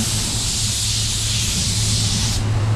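A small touch-up paint spray gun releases a steady, close airy hiss for a few seconds while spraying a different shade over a primer spot. A faint low hum sits underneath, and the hiss drops off just before the end.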